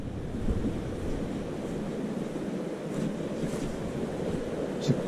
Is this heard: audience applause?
no